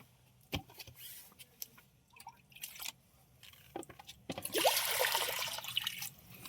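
Water poured into a pot for chicken sweet corn soup, a close, steady splashing stream in the final seconds after scattered clinks and drips.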